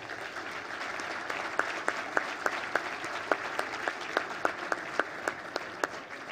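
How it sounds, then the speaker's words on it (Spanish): An audience at the opening of an education forum gives quiet, steady applause, a soft wash with a few sharper claps standing out, heard from some distance. "vamos a despedir con un muy fuerte aplauso a las autoridades que han encabezado este acto inaugural"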